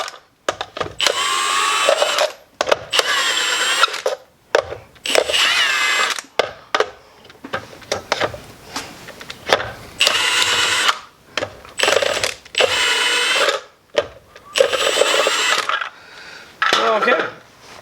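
Milwaukee M18 High Torque 2767 impact wrench set to its slower mode 4 removing a hubcap, firing in repeated short rattling bursts separated by brief pauses, close and loud, with speech between bursts.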